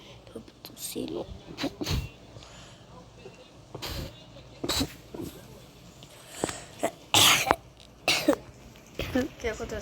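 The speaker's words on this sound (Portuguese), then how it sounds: "Tô tossindo." Several sharp, separate coughs break through quiet, muffled talk, coming close and fairly loud at irregular intervals across the stretch.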